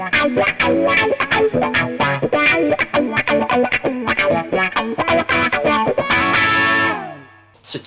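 Electric guitar with a P90 pickup played through a Cry Baby Junior wah pedal, loud close phrases of sweeping, vocal-like filtered notes that end in a sustained chord fading out.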